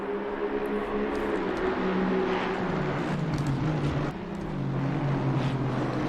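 GT3 race car engines at Misano in Assetto Corsa Competizione, a steady loud drone of several engines with shifting pitch as cars run through corners, continuous and close.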